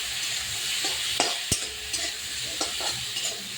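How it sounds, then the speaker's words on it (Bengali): Bitter gourd with salt and turmeric frying in a pan, a constant sizzle broken by a few scraping stirs and one sharp clack of the spatula against the pan. "এবার নেড়ে চেড়ে"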